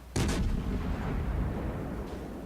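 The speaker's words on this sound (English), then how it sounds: "Someone's shooting at me." Naval gunfire in the World of Warships video game, a French cruiser Duguay-Trouin: a loud double artillery boom opens, then a heavy rumbling roar of shells and explosions sustains throughout, with a faint later thud.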